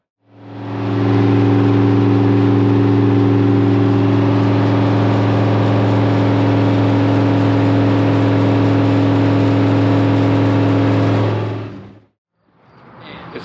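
A Ford-powered 1955 Chevy cruises down the highway, its engine a loud, steady drone for about eleven seconds before the sound abruptly cuts off.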